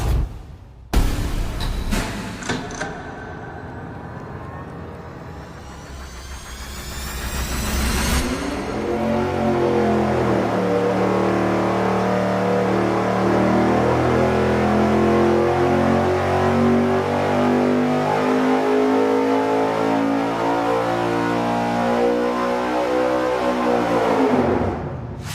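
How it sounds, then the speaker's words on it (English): Engine on a dyno fitted with a 90-millimeter throttle body: a few sharp revs and crackles, then a loud, steady wide-open pull rising in pitch for about fifteen seconds before cutting off abruptly. "We're about to run this with the 90-millimeter throttle body"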